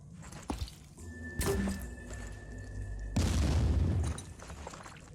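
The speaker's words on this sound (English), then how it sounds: "Grenades." Grenade blasts in the tactical game Phoenix Point land as deep booms, one sharp burst followed by a sustained rumbling explosion later, with lighter thuds and clatter in between.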